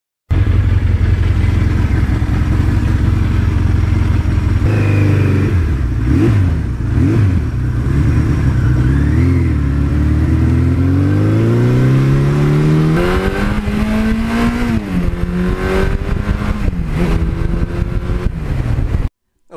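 A 1982 Suzuki GS1100E motorcycle rides on an open road, its engine droning loud and steady up close, with rising and falling revs as it shifts through the gears and accelerates, then cutting off abruptly at the end.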